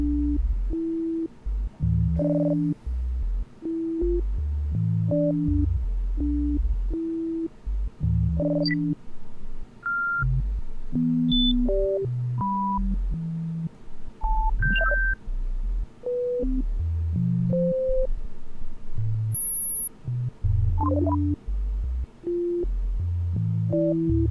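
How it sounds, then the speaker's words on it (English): A sequence of pure electronic sine tones stepping through different pitches, each note retriggered in a quick, uneven rhythm, steady and clear with no voices. "It's just sine waves."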